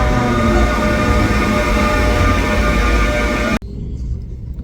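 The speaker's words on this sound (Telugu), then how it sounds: "ఇప్పుడు మా ట్రైన్ వస్తుంది." A train pulls into a station in South Korea with a loud, steady rumble for several seconds that cuts off sharply near the end, leaving a quieter platform background.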